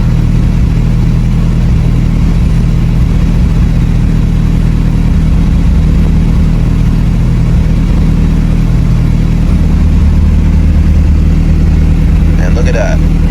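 An Evo 8 engine starts and settles into a steady, loud idle, with a continuous even drone throughout and no talking.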